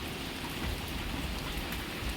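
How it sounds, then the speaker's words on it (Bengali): Heavy rain pours down at night around a house, a loud, steady hiss of drops striking surfaces that fills the whole moment without a break or any voices. "বৃষ্টির জল পড়ছে বলে"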